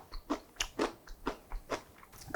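Crisp, crunchy bites into pickled garlic scapes, a quick run of about eight sharp snaps and chews, close and fairly quiet with no talking.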